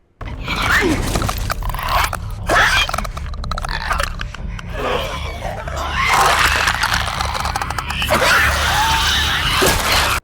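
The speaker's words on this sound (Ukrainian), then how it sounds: "Хрип зомбі." Zombies in the video game The Last of Us Part II give ragged, raspy wheezes and guttural snarls over a dim, ruined-world ambience, with bursts of crunching and scraping interrupting the growls throughout.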